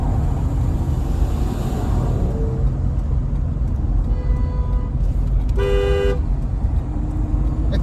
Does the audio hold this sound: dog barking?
no